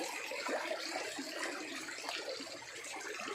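An old river flows in a steady, hissing rush of water, moderately faint and continuous, with no talk over it.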